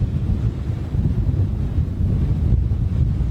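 Gusty wind buffets the microphone outdoors at a planespotting spot near Heathrow Airport, a loud rumbling roar with no voices.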